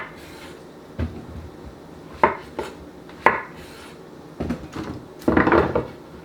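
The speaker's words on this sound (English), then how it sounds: "We're just going to chop them. I'm going to just, let's say, quarter them" Vegetables such as carrots are cut into quarters on a cutting board for homemade beef bone gravy. Scattered knife thunks and clattering kitchen knocks sound nearby, irregular and fairly close, with no talking.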